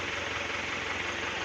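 A freshly rebuilt engine runs at a steady idle in an auto workshop, a continuous close rumble with a faint rough knock and no voices.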